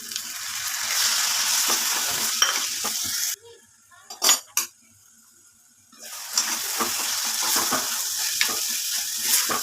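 Tomato sautéing for a prawn and drumstick theeyal, giving a loud close sizzle with stirring scrapes. The frying cuts out midway, leaving near silence with a couple of sharp utensil clinks, then resumes.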